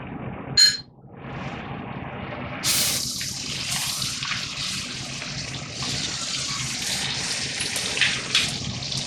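Lightly browned onions and ginger paste fry in a pan for aloo matar pulao; a brief clatter precedes a loud, steady, close sizzle that hisses on continuously with slight swells, and no one speaks.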